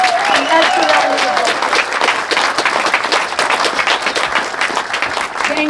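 At a school building dedication, a crowd gives loud, sustained applause from start to finish, dense clapping with some voices and cheers mixed in throughout.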